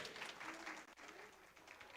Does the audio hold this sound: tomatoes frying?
no